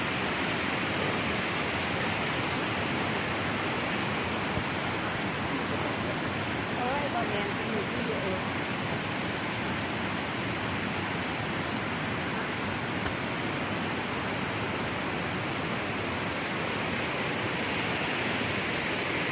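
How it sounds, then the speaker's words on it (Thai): A steady, broad roar of falling water at the lower tier of Tad Kuang Si waterfall, Luang Prabang, Laos, runs without pause, dense and even throughout, with faint voices mixed in beneath it. "อันนี้เป็นชั้นล่างของน้ำตกตาดกวางสีนะครับ"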